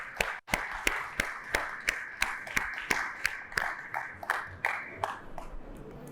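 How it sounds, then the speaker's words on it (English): Applause from a conference audience as panelists come on stage at a blockchain summit, a broad wash of clapping with distinct sharp claps standing out at an even rhythm throughout. "I'd like you to give a big round of applause for our panelists"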